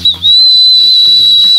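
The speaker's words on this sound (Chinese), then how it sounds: "开始吹口哨。" A person whistles a loud, steady high note in a kitchen, holding it almost unbroken for about a second and a half.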